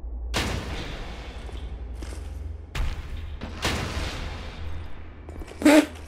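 Dragonslayer greatbow arrows fired in Dark Souls 2, several heavy booming thuds spaced a second or so apart, each with a decaying tail, followed by a sharp higher impact near the end.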